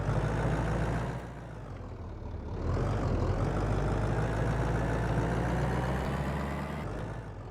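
A vehicle engine, just restarted after repair in a garage, runs steadily on a short test drive, a loud continuous rumble with a dip and swell in revs partway through and no talking.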